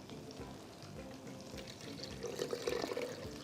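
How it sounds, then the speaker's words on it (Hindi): Water poured into a bowl of salt while preparing beef seekh kabab, a steady soft splashing stream that grows a little louder near the end, with faint kitchen clatter. "नॉर्मल नमक डाल के इसके अंदर पहले पानी ऐड करेंगे"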